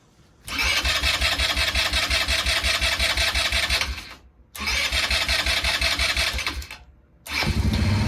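An ATV engine fitted with a new spark plug cranks and runs in loud sustained bursts, twice cutting out briefly before catching again, close and with no talk.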